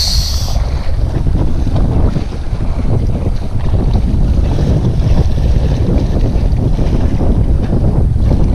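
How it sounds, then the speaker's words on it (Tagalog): Strong wind buffets the microphone with constant loud rumbling, mixed with a broad rush like water or surf, with no voices, during outdoor fishing. "Sobrang lakas ng hangin"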